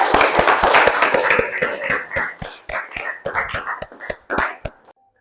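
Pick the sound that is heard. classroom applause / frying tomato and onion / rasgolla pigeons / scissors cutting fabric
classroom applause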